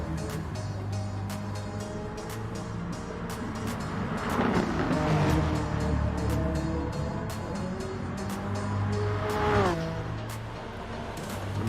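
Race cars roar around the Tokyo Expressway circuit in GT Sport during FIA Manufacturer's Cup practice. Engines drone continuously, and tires squeal sharply in two rising bursts partway through and near the end.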